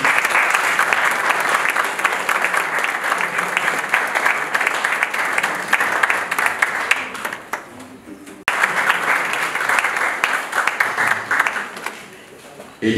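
Audience warmly applauding to welcome an author at a book event, loud sustained clapping that dips briefly then resumes, with voices faintly audible.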